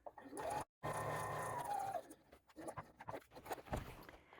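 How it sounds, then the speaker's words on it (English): A sewing machine topstitches across the folded edge of a backpack seam, a steady mechanical whir that runs in short bursts, stopping briefly and then trailing off into quieter handling noises. "sew straight across that folded edge at 1/8 of an inch"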